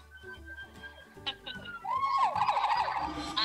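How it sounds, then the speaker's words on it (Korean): A siren wails in the background, sweeping up and down over a spoken voice and a low musical backing, growing louder toward the end. "이렇게 사이렌이 울려."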